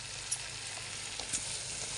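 Pieces of a large fish frying in a generous amount of hot oil, a dense, continuous crackling sizzle, close and steady, with a few small pops and no voices.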